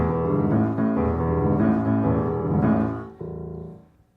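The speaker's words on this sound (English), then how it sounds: "Beth is going to be in the Naughty Show doing a little number where the piano goes like this" Solo piano plays a short teasing phrase from a show tune, several sustained chords in a steady rhythm, clear and close, fading out at the end.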